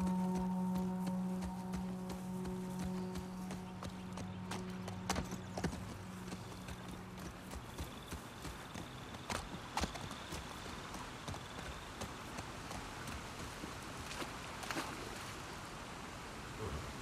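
Steady clip-clop of horse hooves at an even walking pace in The Last of Us Part II, continuing throughout over a low ambient background with a faint tonal hum at first.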